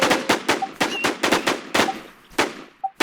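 Gunfire in the survival shooter Infestation: a string of sharp, close, loud shots in an irregular rhythm, roughly a dozen reports over three seconds with brief gaps between them.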